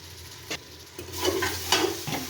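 Tomatoes sautéing in a pan for veg biryani, a soft sizzle rising as a few scraping stirs pass through, close and moderately loud, with no talking.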